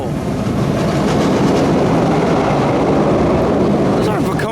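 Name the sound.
roller coaster trains running on track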